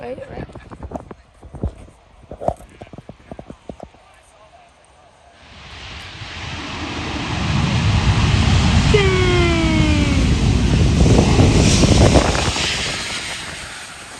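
A United Airlines airliner comes in to land close by, its jet roar rising from quiet to a loud, sustained rush with a falling whine, after scattered clatter and people talking nearby.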